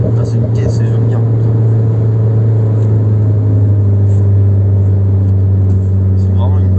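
A Renault Clio 4 RS engine drones steadily from inside the moving car, a loud, even hum with a low rumble beneath it and faint murmuring voices.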